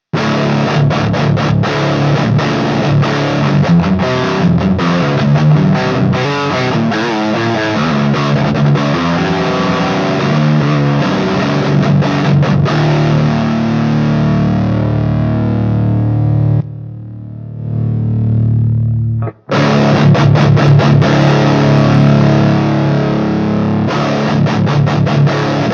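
An electric guitar plays through Axe-Fx cab simulation with no drive pedal, a loud, continuous run of chugging riffs with a brief near-silent break and a ringing note before the playing resumes.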